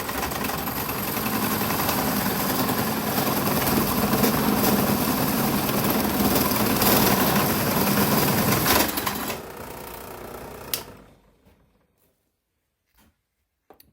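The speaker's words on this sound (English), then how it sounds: "I've got it set where the tip of my paddle bit just barely breaks through" A paddle bit, most likely in a drill press, bores through wood for a dead blow hammer with a loud, steady mechanical whir that winds down and stops, leaving a few faint clicks.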